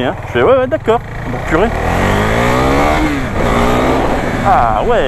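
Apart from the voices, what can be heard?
Husqvarna Vitpilen 401 motorcycle engine accelerating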